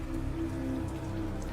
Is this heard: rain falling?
yes